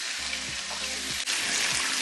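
Steak frying in hot grease in a pan on a kitchen stove, a loud steady sizzle and crackle filling the short stretch, with a brief dip midway.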